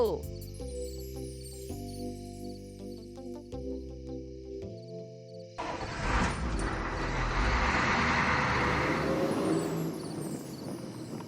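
A cartoon vehicle pulls away: a short musical jingle, then a loud engine roar and rumble that swells and holds steady, close and alone, with no voices.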